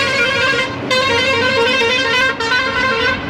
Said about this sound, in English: The truck drivers and their horns.